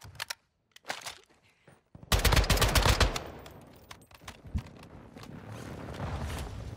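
An AMAX assault rifle fires in the video game Warzone: a few scattered shots, then a dense rapid-fire burst that trails off into lighter shots over a background hum.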